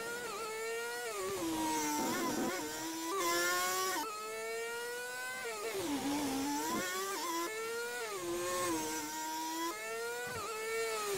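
A Honda engine revving hard in the racing game Project Cars 2, VTEC engaged: a high, buzzy whine climbs and dips repeatedly with gear changes, loud and continuous throughout.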